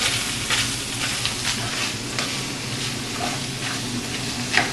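Onion and green pepper frying in a pan for a spaghetti dinner, a steady close sizzle with soft crackling pops throughout and no talking.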